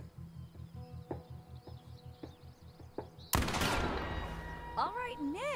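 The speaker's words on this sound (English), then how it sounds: "Remember the spread, remember the recoil. This is a shotgun." Shotgun blast from The Quarry video game, a single loud boom cutting sharply over a busy backdrop of rapid rhythmic clatter and chirping ambience, followed by a rising, warbling tail.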